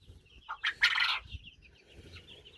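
Backyard chickens and young roosters cluck and call in short bursts, one loud crowing-like cry in the middle, heard close with quiet gaps between sounds.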